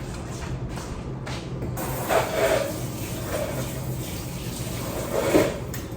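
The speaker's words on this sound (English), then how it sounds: "Let me rinse my fork off." Running water from a kitchen tap hisses steadily while a fork is rinsed under it, with a couple of brief splashes and clinks.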